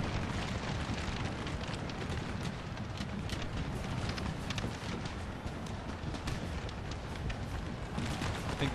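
Cannon artillery fire during a battle in the Napoleon Total War video game, a dense continuous roar of overlapping booms and rumbling blasts, steady and fairly loud throughout.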